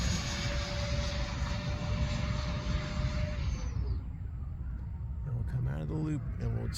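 An EDF YF-17 Cobra model jet flying a loop over a field in Arvin gives a steady, high ducted-fan whine. The whine drops away as power comes off, and then a voice speaks.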